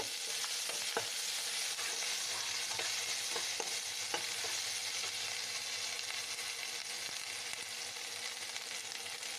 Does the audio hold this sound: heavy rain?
no